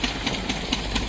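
A tractor engine runs close by with a steady, regular thumping pulse, a few beats per second over a low continuous drone.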